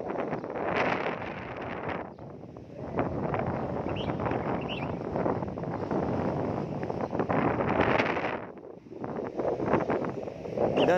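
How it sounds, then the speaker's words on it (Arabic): Outdoor wind in Nador, Morocco, buffeting a microphone in loud, rough gusts with rustling, briefly easing near the end before surging again. "راه فين ما تحركت راه كاين الريح"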